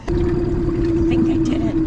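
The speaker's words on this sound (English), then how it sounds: "I gotta start the engine." A boat engine comes to life with a steady, droning hum that holds a constant pitch from start to finish, close by, as a person speaks briefly over it.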